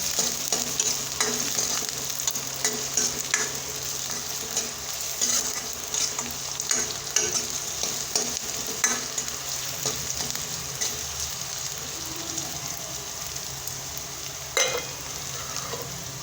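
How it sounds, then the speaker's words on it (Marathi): Onion roasting in a pan until golden, a long steady sizzle close by with frequent light scrapes and stirring clicks from a spatula, no speech. "गोल्डन पर्यंत कांदा कांदा हे भाजून घेऊत आपण"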